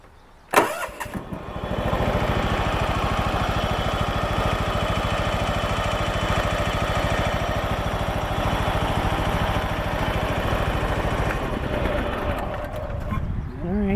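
A John Deere LX172 lawn tractor engine starts with a sharp burst, then runs steadily and loudly at a constant idle for the rest of the stretch, close by, before dipping slightly near the end.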